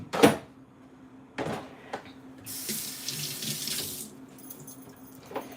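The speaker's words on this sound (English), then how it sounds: "let me rinse this off." Tap water runs in a kitchen sink as an item is rinsed for a vegetable stir fry, with a hissing flow lasting about a second and a half, plus a few clunks and knocks around it, close up, no talking.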